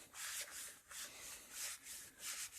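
Scrubbing old gunk off the idler wheel of a 1966 Rheem Califone 1450 record player, faint close rhythmic rubbing strokes, about five back-and-forth swipes, no talk.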